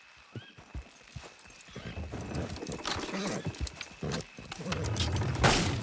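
Hooves clop as horses strain to pull a structure down in Red Dead Redemption 2, with a whinny, creaking and rumbling effort building louder toward the end.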